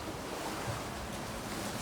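Ocean waves at high tide wash in steadily beside a cave at Admiralty Park, Bermuda, a continuous soft surf rush mixed with wind buffeting the microphone.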